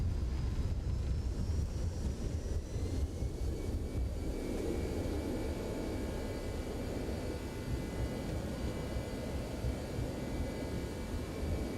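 Airbus A321neo thrust reversers roaring in X-Plane 12 just after touchdown on landing, a steady, loud broadband engine rush with a faint high whine, sustained for the whole stretch without speech.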